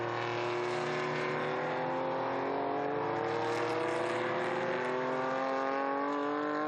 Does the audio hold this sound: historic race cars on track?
yes